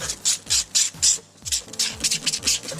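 Rhythmic back-and-forth rasping of 2000-grit sandpaper on a car headlight lens, about a dozen strokes close up, steady and fairly loud.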